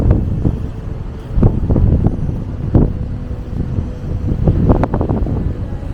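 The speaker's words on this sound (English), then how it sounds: "Apologies for the wind if you hear it." Gusty wind buffeting the microphone outdoors at St Mary the Virgin church, Chickney, Essex: low rumbling bursts that swell and fade irregularly, loud and close, with no talking.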